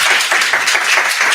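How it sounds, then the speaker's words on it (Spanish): Brief, loud burst of audience clapping for a speaker at a talk on an AI model, close and dense with many hands, no voices over it. "Un aplauso para él."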